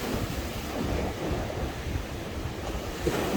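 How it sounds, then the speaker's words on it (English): Irish Sea waves break steadily along the shore at Blackpool, a continuous broadband wash with heavy wind buffeting the microphone and no voices. "turning the camera around nice and slowly so you still see the waves"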